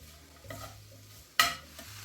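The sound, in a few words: stirring pork stew in a pan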